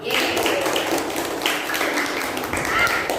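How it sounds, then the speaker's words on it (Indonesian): Schoolchildren clap together in a classroom during a primary mathematics lesson, a loud close burst of hand claps lasting a few seconds with voices mingled in the noise. "tepuk tangan untuk kita semua"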